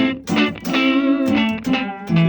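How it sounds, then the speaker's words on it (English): Electric guitar played through a single-ended amplifier, sustained chords and notes ringing out with distortion building in, loud and close with no talking. "so you can hear that the distortion is starting to come in"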